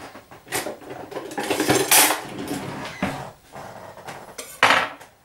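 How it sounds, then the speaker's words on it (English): Cookie dough rolled about a quarter inch thick is cut into shapes. Several nearby metallic clinks and scraping knocks come from cutters and utensils against a tray or board, in irregular bursts with no talking. "we just start cut out basically all the"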